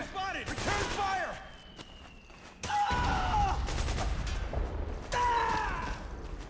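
Gunfire is exchanged in the video game Metal Gear Solid 4, with sharp bursts of shots and mechanical clatter mixed with in-game voices and effects, loud and dense in a few separated waves.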